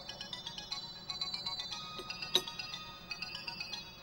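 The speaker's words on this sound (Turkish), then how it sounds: "Senin telefonun mu çalıyor?" A mobile phone rings with a repeating electronic ringtone, a steady run of bright chiming tones heard clearly with no talking over it.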